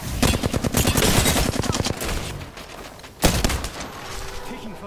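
Rapid automatic gunfire from an Apex Legends battle, loud and near, with dense bursts, a sharp shot about three seconds in, then continued firing.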